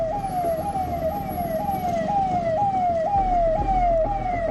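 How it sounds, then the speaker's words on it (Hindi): Wailing ambulance siren stuck in a heavy traffic jam on a flyover, its rising sweeps repeating steadily over rumbling road traffic, loud and near. "जाम में एक एम्बुलेंस भी फंस गई।"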